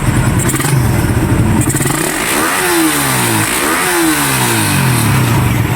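A Suzuki Raider 150 motorcycle fitted with a 28mm Keihin carburetor starts up and revs hard twice, climbing then falling in rising-and-dropping sweeps over a steady loud idle, close to the microphone.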